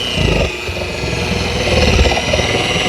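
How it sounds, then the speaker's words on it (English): Small orbital sander starting up at its lowest speed while repairing paint protection film on a Porsche, a steady close whir with rough motor hum, continuous and fairly loud throughout. "we're going to start our sander here"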